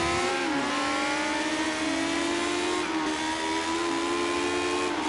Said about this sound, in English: Going full throttle, chasing the car in front.